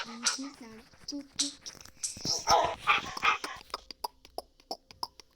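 A voice mimics dog barks in short repeated bursts, followed by a string of sharp, quick yaps and clicks.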